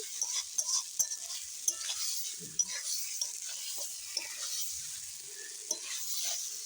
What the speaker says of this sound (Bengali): এখন একটু পটল দিয়ে ভালো করে কষিয়ে নিই